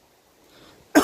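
A man gives a single sharp, close cough, a lingering cough after bilateral pneumonia. It comes abruptly at the very end after near silence.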